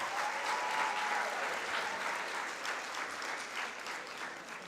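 Audience applause at a youth leadership symposium: a dense, steady clapping from a sizable crowd that holds at full strength for about five seconds, with no voices over it.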